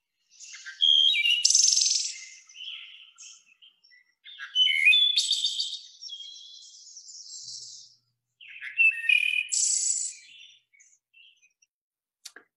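Clear, loud wood thrush song in three separate phrases with pauses between, each a rich fluting series of notes ending in a high trill, heard alone.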